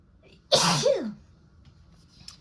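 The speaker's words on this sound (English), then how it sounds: "Oh, I have to sneeze." A single sharp sneeze bursts out close by, quick and forceful, followed by quiet.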